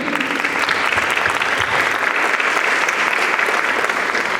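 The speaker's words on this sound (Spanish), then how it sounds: "Recibamos con un aplauso a Lisbeth, por favor." A crowd applauds steadily, dense clapping that holds at an even, fairly loud level throughout with no talking.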